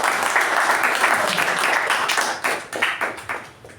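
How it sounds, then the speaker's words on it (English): A meeting audience applauds a speaker and evaluator with dense, close clapping that holds steady and then thins into scattered separate claps as it fades out. "give speaker and the evaluator a big round of applause"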